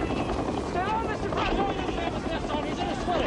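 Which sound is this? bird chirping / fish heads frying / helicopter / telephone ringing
helicopter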